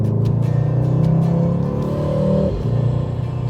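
Mercedes-AMG GT 63 S 4-Door Coupé with its 627-horsepower 4-liter V8, heard up close as a loud, deep rumble that climbs in a rev, then drops back to a throaty idle.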